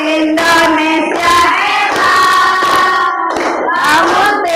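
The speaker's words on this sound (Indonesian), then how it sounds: "Boleh sambil tepuk tangan." Children clap along in a classroom during a sung, chanted counting song, their loud rhythmic hand claps mixing with voices singing throughout.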